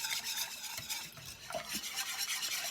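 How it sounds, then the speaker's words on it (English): Milk is being whisked into a pot of potato soup, giving a steady, close scraping and swishing with a rhythmic texture and no voices. "and then go ahead and whisk it some more."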